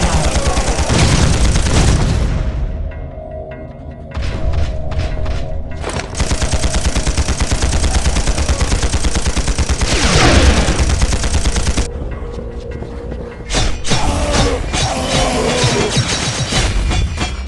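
Heavy gunfire in the mobile game Implosion: Never Lose Hope roars almost nonstop in loud, dense bursts and booms, with brief dips in intensity over about seventeen seconds.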